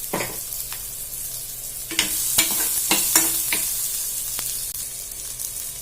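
Onions sautéing in a pan for a spicy green chilli chutney, a steady sizzle broken by sharp scraping stirs in short bursts, close and fairly loud, with no talking.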